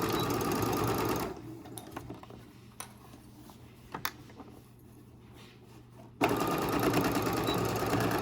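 A sewing machine chain-stitches pieces of fabric, starting with a loud, rapid mechanical chatter, pausing for a few seconds of quiet handling clicks and taps, then abruptly resuming at full speed.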